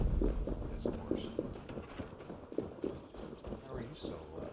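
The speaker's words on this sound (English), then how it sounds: "It is a horse." Horse hooves clopping in the video game Assassin's Creed Valhalla, a series of soft, irregular footfalls under ongoing talk and game ambience.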